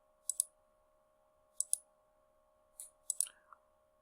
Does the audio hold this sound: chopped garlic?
no